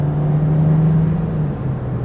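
Inside a 2022 VW Jetta SE with a 1.5-liter turbo engine, a loud, steady drone rises as the car accelerates from about 40 mph, with a clear engine tone holding under broad road noise.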